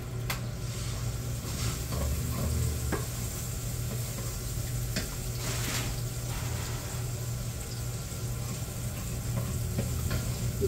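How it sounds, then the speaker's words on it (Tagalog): Onions and garlic sizzle and fry steadily in a pan, with scraping stirs and clinks of a utensil over the constant frying hiss. "gisa na po natin yung garlic"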